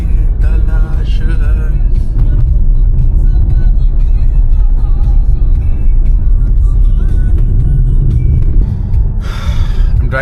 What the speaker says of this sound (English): Driving the Jeep Compass